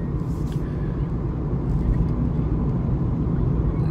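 A Nissan Wingroad, originally a commercial vehicle, drives at night with a steady low road and engine rumble from inside the cabin, loud and unbroken.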